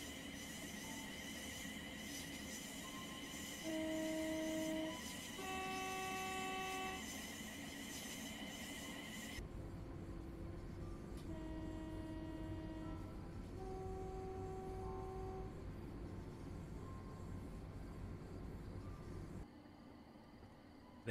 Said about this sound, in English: So that is the third rail motor.